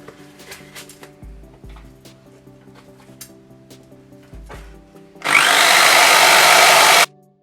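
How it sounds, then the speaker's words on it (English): Electric drill spinning a wire brush to clean a Porsche 928 CIS fuel system part, a loud steady grinding whir from about five seconds to seven seconds, preceded by quiet clinks and small handling noises. "Wire brush on the drill."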